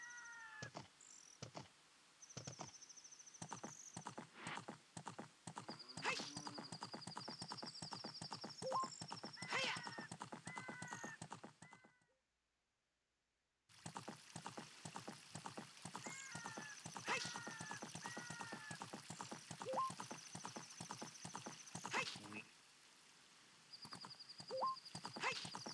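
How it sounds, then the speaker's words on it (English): A horse in a Zelda video game repeatedly neighs and whinnies over rhythmic galloping hoofbeats, with a brief silent break midway before the clip-clop and neighs resume. "my horse is King Zora"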